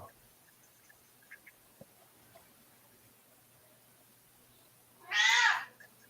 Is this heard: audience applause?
no